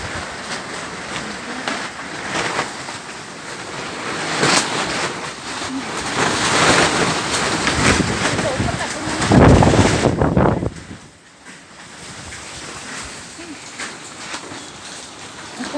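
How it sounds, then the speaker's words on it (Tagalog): Strong wind roars past outdoors, a rushing broadband noise that swells and peaks before dropping off abruptly, then continuing more quietly, with no clear speech over it. "Bigyan mapugman ang hangin."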